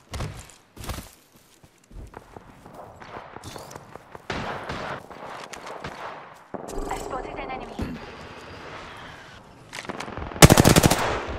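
Automatic weapon fire in the video game Apex Legends, with loud rapid bursts that build toward a dense, sustained volley near the end, mixed with footsteps and game effects.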